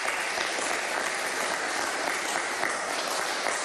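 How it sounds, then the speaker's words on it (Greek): Steady, dense applause from a large audience at a general assembly of the World Hellenic Inter-Parliamentary Association, loud and continuous throughout without pause. "το πρώτο χειροκρότημα ξεκίνησε από τη Σουηδία"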